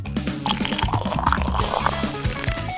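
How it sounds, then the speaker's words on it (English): Water is poured onto water beads inside an eggshell bathtub, a brief run of wet gurgles, splashes and squishy clicks lasting under three seconds with nothing else over it. "Add some water beads and, of course, water."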